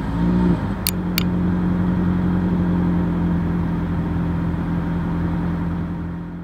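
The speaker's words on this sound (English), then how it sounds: "Keep in mind, this is a hybrid. I'm not sure this is gonna work, but as always, here is that exhaust clip." A 2024 Toyota Prius hybrid running, a low steady engine hum and faint exhaust drone with a couple of brief clicks near the start, close and continuous.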